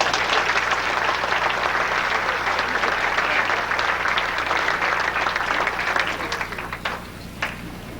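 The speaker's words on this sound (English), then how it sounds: "I think we all ought to give this group a big round of applause." A banquet audience at a high school all-star football game event applauds a group, producing a dense, loud, sustained roar of clapping that carries for most of the stretch before thinning into scattered claps near the end.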